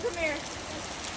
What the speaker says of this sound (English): This is a good rain.